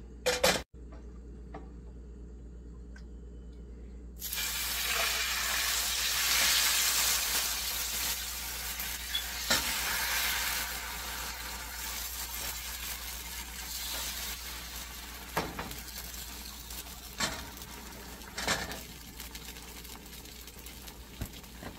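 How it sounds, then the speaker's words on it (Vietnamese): Vietnamese bánh xèo crispy rice crepe batter frying in a pan, a steady loud sizzle that starts abruptly and keeps going with occasional pops and clinks. "Đầu chiên bánh xèo ha"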